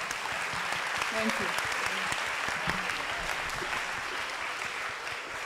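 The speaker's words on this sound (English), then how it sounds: "So again, I will call for an applause." Audience applause fills the room after a scientific talk on island biology, a steady sustained round of clapping from start to end, with a brief spoken thank-you over it.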